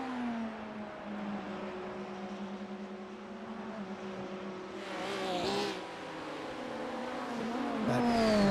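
Race cars in a Monza sim racing video game sweeping through the Curva Grande, a steady droning engine note that rises as a car draws closer and revs, with a brief louder pass near the end.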